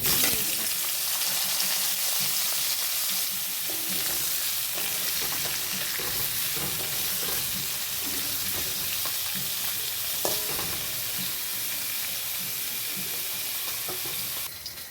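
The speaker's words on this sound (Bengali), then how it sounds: "কপিটা আলুটা এবার ভেজে নেব" Steamed cauliflower florets frying in hot oil in a pan, a loud, dense, unbroken sizzle with occasional stirring knocks running throughout.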